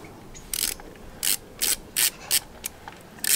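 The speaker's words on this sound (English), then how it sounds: "And now we can just put back the bolts." A ratchet works bolts on a Ford Bantam ROCAM clutch assembly, giving a series of sharp, close clicking bursts at irregular intervals, loud over a quiet background with no talking.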